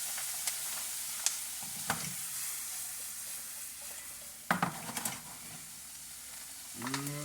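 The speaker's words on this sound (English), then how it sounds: "Let that sit and bubble just a few minutes." A pan sauce deglazed with lemon juice bubbles and sizzles quietly on the stove, with a steady hiss broken by a few sharp clinks and scraping stirs.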